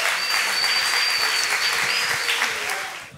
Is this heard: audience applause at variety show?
yes